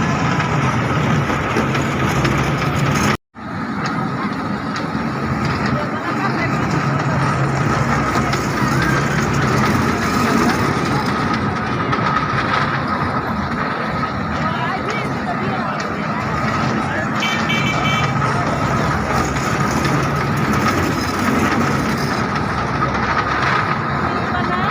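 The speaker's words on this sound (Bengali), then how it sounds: "এই যে এখন তারা ড্রাগন ট্রেনে চলতেছে।" An electric children's dragon train ride runs at a market, giving a steady mechanical rumble and hum that continues throughout, with faint crowd voices in the background.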